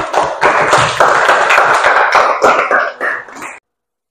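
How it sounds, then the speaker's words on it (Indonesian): A classroom of students applauds a student group with dense, lively clapping that runs steadily for about three and a half seconds, then stops abruptly. "kita beri aplaus untuk kelompok ini"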